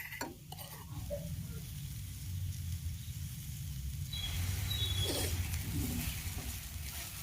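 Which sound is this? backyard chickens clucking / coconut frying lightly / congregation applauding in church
coconut frying lightly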